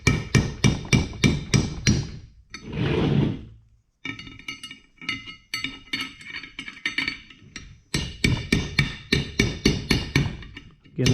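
Hammer blows folding soft aluminum lock tabs on the rear brake drum of a Kawasaki H1/H2/Z1 motorcycle, sharp metallic strikes in quick rhythmic bursts, close and loud, with a short rough scraping break between volleys.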